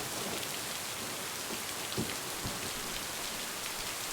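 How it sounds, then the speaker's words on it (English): Steady rain pours down outside, with a dense hiss of drops hitting surfaces and a couple of soft low thunder rumbles in the middle. The sound stays even and moderately quiet throughout, with no voices. "But the storm sounds are okay."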